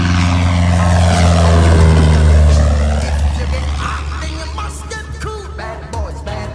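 A small propeller airplane takes off at Oshkosh during EAA AirVenture, its loud, steady engine drone close at first and then easing off slightly as it moves away.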